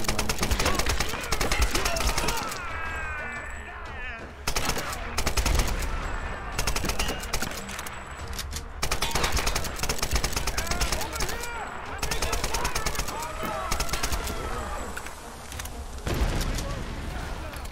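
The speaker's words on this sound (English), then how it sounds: "I might just have to use my machine gun." Machine gun fire in the Tomb Raider video game, sustained rattling bursts with brief gaps throughout, mixed with game effects while someone talks excitedly over it.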